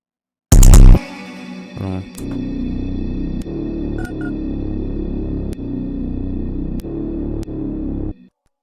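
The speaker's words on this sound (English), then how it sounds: "For the bass, I used a one shot, like the normal off bass one shot that everybody uses." A deep bass note sounds alone in a sparse beat, sustained low tones sit under a few sharp clicks at regular intervals after a loud opening hit.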